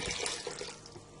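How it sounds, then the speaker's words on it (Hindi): About a litre of water pours into a pot of aloo gosht, a mutton and potato curry, making a steady, close splashing rush that eases slightly toward the end. "1 लीटर के करीब पानी डाल देंगे।"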